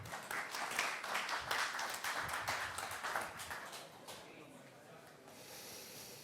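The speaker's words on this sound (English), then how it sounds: "Applause for him." Applause from an audience greeting a presenter taking the stage at a startup pitch competition: a broad clatter of many hands that thins and fades after about four seconds, with a faint voice or room noise beneath.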